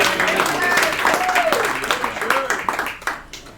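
Audience applause at a Republican gathering in Lunenburg, Massachusetts, a short burst of clapping that fades out over a few seconds, with voices mixed in underneath.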